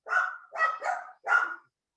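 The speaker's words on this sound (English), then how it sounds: "my dogs start barking" Four sharp barks in quick succession, the middle two nearly overlapping, clear and moderately close with silence after.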